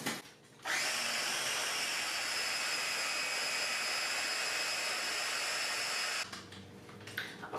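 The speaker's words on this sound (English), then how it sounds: "We're going to put the lid on and we're going to blend again." Countertop blender whirring hummus with the lid on, a steady loud motor roar that starts abruptly, holds evenly for several seconds, then cuts off.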